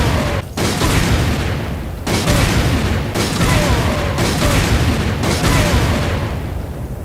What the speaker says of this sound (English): 6 explosive rounds to take down a Big Mama Genie